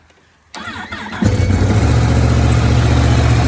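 A Yamaha R1 motorcycle engine is started in cold weather: a brief starter whir, then the engine catches and settles into a loud, steady, rumbling idle, close to the microphone with no talk.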